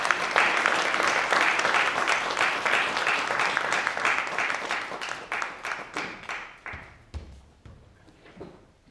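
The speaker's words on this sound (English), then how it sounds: "with an explosive round of applause, incredible audience, please welcome Jimi Tewe for his keynote address" An audience applauds a keynote speaker at a conference, with loud, dense clapping that continues steadily for several seconds and then thins into scattered individual claps as it fades out.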